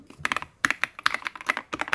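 Rapid typing on an EPOMAKER Shadow-S mechanical keyboard with hot-swappable switches, loud and close: clusters of crisp clacky keystrokes in an uneven rhythm with a brief pause midway, no voices.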